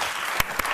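Audience clapping at a comedy game show, a short burst of dense, lively applause with a couple of sharper claps standing out.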